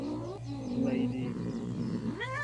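A cat meows in the video game Rocking Cat: a drawn-out, wavering yowl running throughout, loud and close, with a rising cry near the end and no talking.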